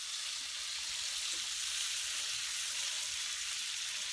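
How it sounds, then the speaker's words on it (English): Shrimp frying in oil with Southwest seasoning in a pan makes a constant, soft, even hiss of sizzling, close and steady with no voices. "now I have my shrimp in the pan with oil with the rest of that Southwest seasoning"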